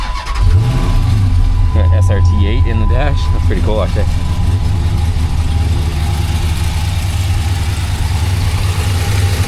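A classic Dodge Charger engine with stock exhaust cranks, catches and settles into a steady, loud idle, with someone talking over the running motor.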